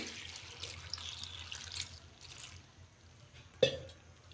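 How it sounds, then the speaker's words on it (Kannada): Water is poured over soaked lentils in a pressure cooker pot, a faint, steady splashing trickle with a brief sharp clink near the end. "ಈಗ ಸ್ವಲ್ಪ ನೀರು ಹಾಕ್ಕೊತಾ ಇದ್ದೀನಿ"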